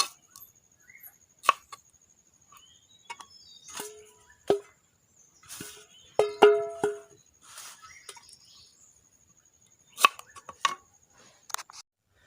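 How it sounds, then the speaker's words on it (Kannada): A knife chopping pineapple into small pieces on a board, heard as scattered sharp close taps and short bursts of cuts separated by quiet pauses, with no talking. "ಇವಾಗ ನಾನು 1/4 ಕಪ್ ಆಗುವಷ್ಟು ಪೈನಾಪಲ್ ಹೋಳುಗಳನ್ನು ಸಣ್ಣದಾಗಿ ಕತ್ತರಿಸಿ ಸಪ್ರೇಟಾಗಿ ತೆಗೆದಿಡ್ತಿದ್ದೇನೆ"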